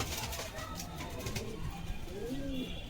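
A domestic pigeon from a sale collection in Beldanga coos softly nearby, with a low throaty rolling call that rises toward the end, set against a steady background hiss.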